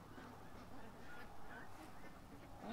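Ducks scattered around a backyard give faint honking quacks, a few scattered calls at a distance over low background noise, with a louder call rising at the very end.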